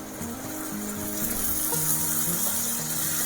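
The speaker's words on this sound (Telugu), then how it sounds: "కొంచెం వాటర్ వేసేసుకుందాం తర్వాత ఇందులోకి" A steady stream of water pouring close by into a parwal masala curry with tomato puree, continuous and fairly loud for a few seconds, with a low hum underneath.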